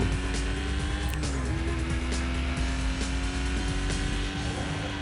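Race car engine roars steadily with tire noise in the video game Need for Speed Most Wanted, a loud continuous drone with a faint squeal, no talk.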